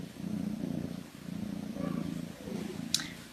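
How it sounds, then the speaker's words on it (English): A rescued cat purring steadily up close, its low rumbling cycles repeating in slow even pulses for a few seconds, with a brief faint click near the end. "he now has been, rehabilitated, so he loves to purr"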